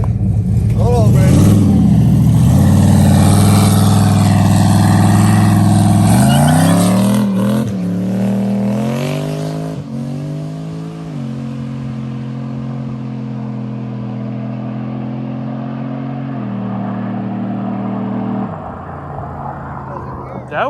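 Car engine held on the foot brake and revved hard in a burnout attempt during street testing, a loud sustained roar with rising and falling pitch under people talking.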